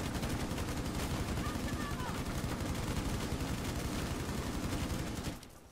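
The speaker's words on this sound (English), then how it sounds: "I'm saying we should probably stop shooting because you are inside" Sustained automatic gunfire from Rainbow Six Siege runs almost without pause, loud and dense, with rapid overlapping shots that cut off abruptly at the end.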